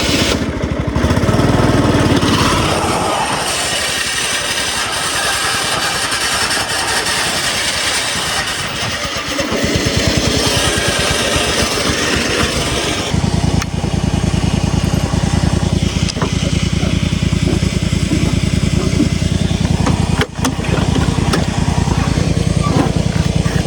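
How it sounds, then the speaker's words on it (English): Small homemade racing lawn mower engine revs hard and loud, then settles into a rough idle before revving again, with a burst of tire screech as the tires burn; the engine stays close and dominant throughout. "Oh, you gotta floor it, Polly. Yeah, I gotta give it some. Oh my god, it just burnt the tires"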